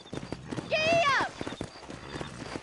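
A horse in the video game Red Dead Redemption gives a short, sharp whinny, followed by clip-clopping hooves under game dialogue.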